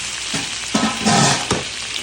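Whisk scraping through Alfredo sauce in a pan on the stove, a short bubbling sizzle broken by a few sharp clinks and scrapes of the whisk against the pan.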